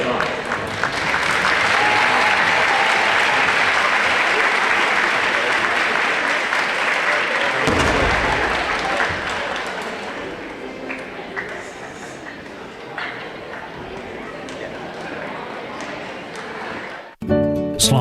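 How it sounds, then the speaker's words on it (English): Sustained crowd applause at a homecoming event honoring the chosen court candidates, loud and steady for several seconds, then tapering into a softer murmur of clapping and crowd noise with some talk underneath. "A nice round of applause for all those who've been chosen by their classmates to represent them tonight."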